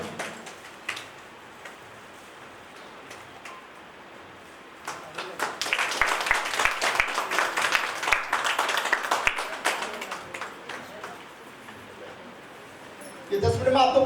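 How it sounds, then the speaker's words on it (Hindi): Guests at a Delhi honour ceremony clap for one another: after a quiet stretch, a burst of moderate applause swells midway and fades, with a louder noise breaking in at the very end. "एक दूसरे के लिए ताली बजानी चाहिए"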